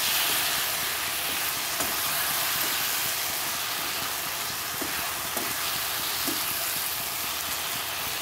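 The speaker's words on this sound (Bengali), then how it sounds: "এই টমেটো দিয়ে এরম করে যদি ঢেকে ঢেকে ভাজো, তরকারিটা খুব টেস্টি হয়" Bottle gourd curry with tomato sizzles and fries steadily in a covered pan, a continuous soft hiss with a few faint clinks, no voices.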